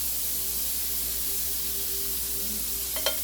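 Olive oil, about a quarter cup, heating in a frying pan with a broad, even hiss and faint crackle close by, ending in a brief clink.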